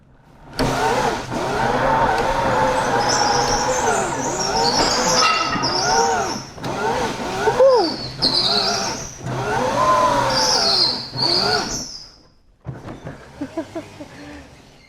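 A homemade electric go-kart whines through repeated rising and falling motor pitches on its first test drive, with tire squeal in between. Brief pauses break the runs, and a quieter, choppier burst comes at the end.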